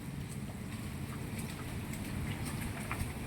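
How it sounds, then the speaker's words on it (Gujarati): Soft, steady patter of light monsoon rain in Gujarat with scattered drops tapping nearby, a low rumble of wind underneath. "હે વરસાદ ધીમો ને કંઈક ફૂલ થઈ જાય એવો છે"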